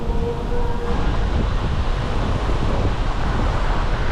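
Strong wind gusts buffet the microphone on a lake while fishing from a boat, a loud, constant roar that fills the whole stretch with no voices.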